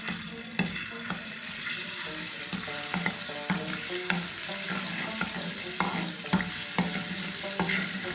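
Chopped desi garlic fries in oil for nalli nihari, a steady sizzle broken by repeated clacks and scrapes of a spoon stirring in the pan, close and moderately loud.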